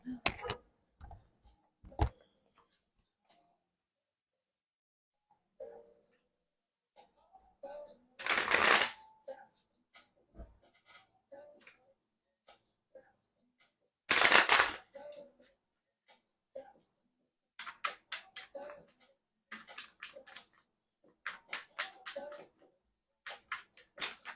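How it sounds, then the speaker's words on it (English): Tarot cards shuffled by hand before a card is pulled, giving two loud riffling bursts and then quicker clusters of card snaps and taps, with a voice talking in between. "Hold on, I got I gotta pull a card on this."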